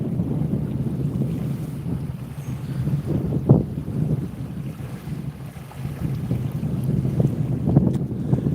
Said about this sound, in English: Hopefully this wind doesn't get any worse.